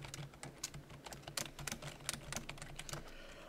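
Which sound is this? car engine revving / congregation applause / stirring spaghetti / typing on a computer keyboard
typing on a computer keyboard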